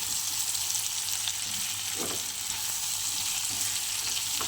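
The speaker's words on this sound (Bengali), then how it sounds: "এবার সুন্দর করে আমি একটু কষিয়ে নেব।" Small shrimp sautéing in a pan give a steady, close sizzle and frying hiss, with a few faint stirring scrapes and no talk.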